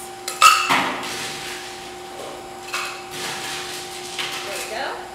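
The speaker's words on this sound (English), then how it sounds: "a shaker of ice." Ice cubes are dropped into a cocktail shaker with a sharp clatter, followed by a few lighter clinks and rattles spread over several seconds.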